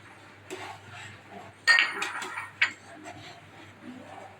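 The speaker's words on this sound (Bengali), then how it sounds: "খোয়াটা অ্যাড করে এবার আমি একটু নেড়ে দেব।" A spoon clinks and scrapes in a cooking pot as khoya kheer is stirred into boiling sweetened milk, with a few sharp metallic knocks at fairly low level.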